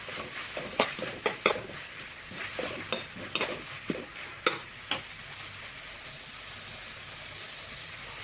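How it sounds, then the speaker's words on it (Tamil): A spoon scrapes and clatters in a pan as spicy masala for kara idli is stirred, giving a run of sharp, irregular knocks over a soft, steady frying hiss, close and moderately loud, with no talking. "ஸோ போட்டுட்டு நல்லா ஒரு 2 நிமிஷத்துக்கு நல்லா கலந்துக்கோங்க."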